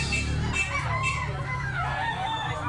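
A fairly large rooster offered for sale at a Filipino poultry market crows and clucks over a busy background, with other birds and faint voices around it.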